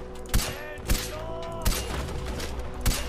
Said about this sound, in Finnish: Siis mä ammun tuoltakin päähän.